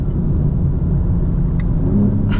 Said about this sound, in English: The Active Sound Design really sounds crazy